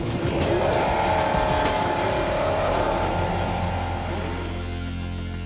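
A 1967 Chevrolet Nova drag car roars loudly and steadily at close range, engine noise with a tire-squeal edge holding strong throughout before easing slightly toward the end.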